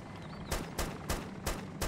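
Bursts of gunfire ring out in the video game DayZ Origins, five evenly spaced shots cracking over a low background hum with no talking.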